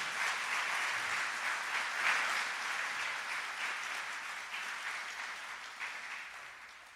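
A church congregation breaks into sustained applause, a steady dense wash of many hands clapping that holds evenly, then slowly thins toward the end.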